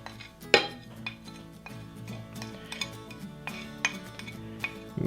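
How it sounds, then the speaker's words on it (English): Metal spoon clinking and scraping against a bowl while stirring a fajita sauce of oil, Worcestershire sauce, lemon juice and seasoning powder; irregular sharp clinks, one louder strike early on, close and without talk. "Grab a spoon and mix it all up."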